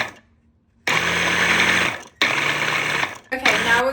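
A pink Paris Hilton immersion hand blender whirs loudly in steady bursts, starting after a short quiet pause, cutting out briefly, then starting again, with a final uneven stretch as the motor load changes.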